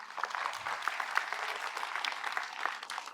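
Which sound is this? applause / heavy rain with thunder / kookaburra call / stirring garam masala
applause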